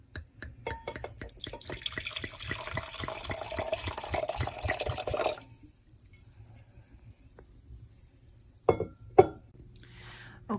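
Luxana Sauvignon Blanc wine pours close up into a glass in a steady gurgling stream for about five seconds. After it stops there is near silence, then a couple of light clinks from the glass.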